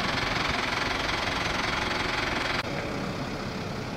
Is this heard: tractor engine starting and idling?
yes